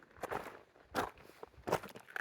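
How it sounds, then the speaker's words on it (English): Footsteps crunch on a sandy trail along the Pacific Crest Trail, three soft, gritty steps in slow rhythm, close and fairly quiet in a still setting. "I could hear their footsteps crunching in the sand"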